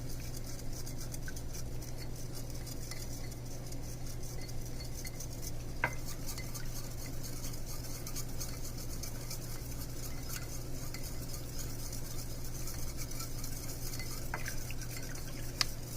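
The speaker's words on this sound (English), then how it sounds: "Once everything is in the bowl, you can mix it up until the chunks come out" A mixture is stirred in a bowl for vegetable lo mein, a continuous soft scraping and sloshing with occasional faint clicks of a utensil, steady and close at low volume, no voices.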